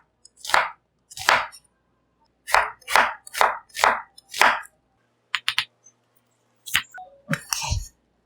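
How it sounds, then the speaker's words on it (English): A knife chops onion on a board in bursts of crisp, close knocks, about eight strokes in a loose rhythm, followed by lighter clicks and clatter near the end, with no voices. "And I will cut onion."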